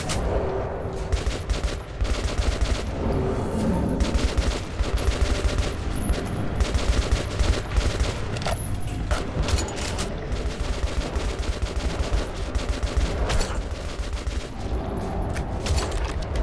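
Sustained gunfire from the Metro 2033 Redux video game, a dense unbroken barrage of rapid shots that keeps up loud and close for the whole stretch, with no talk over it.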